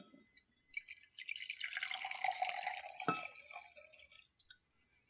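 Colored water pouring from a container into a measuring cup, a steady trickling and splashing stream that builds and fades over a few seconds, heard close up with no talking.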